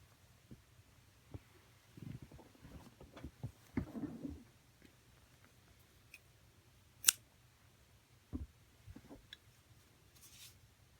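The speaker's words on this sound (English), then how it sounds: "we can cut the yarn and fasten off" Scissors snip through crochet yarn to fasten off a chevron tassel blanket, giving a few soft, close clicks and a brief rustle, with isolated sharper snips later in an otherwise quiet room.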